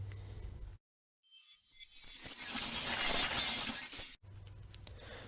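A reversed glass shatter: after a brief silence, bright crackling glass swells louder over a couple of seconds, then cuts off abruptly.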